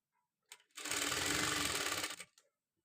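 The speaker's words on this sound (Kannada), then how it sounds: "ಈ ಥರ ಸ್ಟಿಚ್ ಮಾಡಿಕೊಂಡು ಹೋಗಬೇಕು." A sewing machine runs one steady burst of about a second and a half, stitching piping onto fabric in a boutique-style tailoring job; fairly quiet and close, with no talk.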